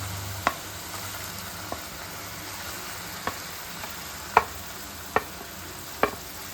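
Boiled prawns frying with ginger in a pan give a steady low sizzle, broken by about six sharp, separate clicks or pops spread through the stretch, with no voices.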